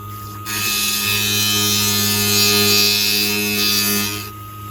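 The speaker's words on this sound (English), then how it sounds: "Now I'm going to smooth the triangle with the grinder" An angle grinder smooths the edges of a small cut metal triangle, a loud sustained high whine that holds steady for about four seconds before cutting off.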